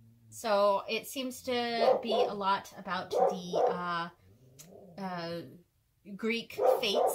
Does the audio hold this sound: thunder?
no